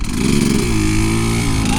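A nearby adventure motorcycle's engine revs and pulls away from a stop, its pitch rising and falling steadily, with a faint voice underneath.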